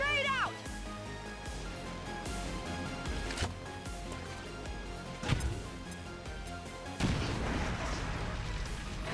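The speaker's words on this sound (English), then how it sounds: "Grenade out." A grenade blast in the XCOM 2 tactical strategy game, heard as a sharp explosive boom around the middle, followed by a second burst and crackling debris over a constant game soundtrack.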